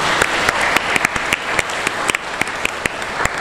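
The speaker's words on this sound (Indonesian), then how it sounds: "kita kasih aplaus untuk kita semua dulu" An audience of high school students at a motivation training session applauds, a dense, loud spread of clapping with sharp individual claps standing out through it, close and continuous with no speech.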